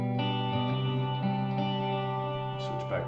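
Clean electric guitar tone through a Line 6 amp simulator with an FBV Shortboard MKII, sustained ringing chords with a shimmering chorus-like sheen, a new strum near the end.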